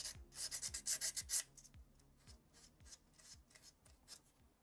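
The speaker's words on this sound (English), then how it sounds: "Just a few of the crystal surfaces need a bit of sanding." Close, rapid scraping strokes of sanding on the crystal surfaces of a plastic dragon model kit, loud bursts at first, then softer, irregular rubbing passes.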